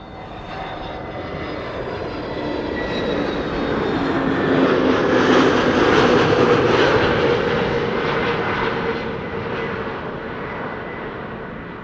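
An airliner arriving from Porto, Portugal, its engines roaring as it approaches, swelling to a loud peak midway and then easing off into a fading rumble, with no talk.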